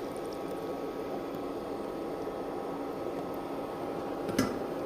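A pan of potato, eggplant and black gram curry bubbles in a low, steady simmer, with a dense, even burbling texture and one brief clink near the end.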